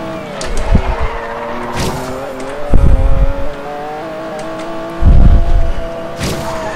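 Maserati MC12 in the racing game Forza Horizon 2 on a club circuit, engine droning steadily with gear changes while tires give short bursts of squeal and scrub under braking, loud and close with no talk.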